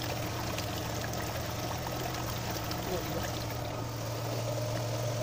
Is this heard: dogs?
no